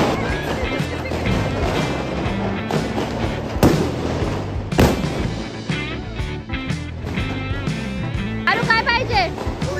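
Diwali firecrackers burst outdoors near a family home, several sharp loud bangs and cracks scattered among crowded chatter and voices, with tonal noise between the blasts.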